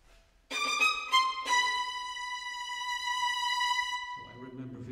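Bright, sustained high string harmonics from a string orchestra imitating a cock crow at the opening of the third movement of a Shostakovich work, entering sharply with a couple of rising accents, holding for about four seconds, then giving way to lower strings.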